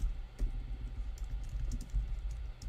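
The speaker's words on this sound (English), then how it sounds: "I'm typing this in the chat live" Fingers type on a computer keyboard, a close run of irregular, quick key clicks with a few louder taps and no talking.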